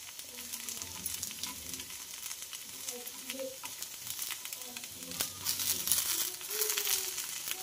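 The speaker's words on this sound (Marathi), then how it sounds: "सगळे अप्पे आपण असेच परतून घेऊया" Rava appe frying in an appe pan as each one is turned, a steady close sizzle with small clinks and scrapes scattered throughout, growing slightly louder near the end.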